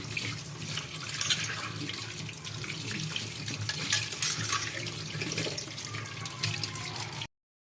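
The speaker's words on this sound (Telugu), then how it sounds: "వాటర్తో కడుక్కుంటున్నా." A tap runs steadily while a tea strainer is rinsed under the stream, splashing close by, with no one talking.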